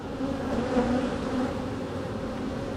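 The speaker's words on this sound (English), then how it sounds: "there's so many bees on my veil at that moment" Loud, steady buzzing of bees right up close, a dense droning hum with wavering tones that fills the whole stretch without pause.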